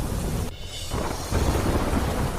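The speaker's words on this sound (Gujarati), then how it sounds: "ગોંડલ શહેર અને ગ્રામ્ય વિસ્તારમાં વરસાદ" Monsoon rain falls on Gondal town and the surrounding countryside in Gujarat. Dense, loud rain and thunder rumble continuously, broken by a brief dip, then swell again.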